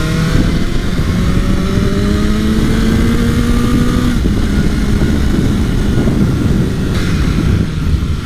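A 165 hp 2022 BMW S1000R engine pulls hard while riding, loud and close, with rising whine tones as it revs up through the gears, a shift near the middle, then a steady roar; no talk.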